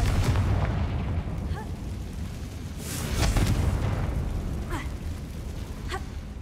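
A Confringo fire spell bursts in Hogwarts Legacy with a loud explosive blast, followed by a few smaller crackling pops over a steady rumbling game background, with no talking.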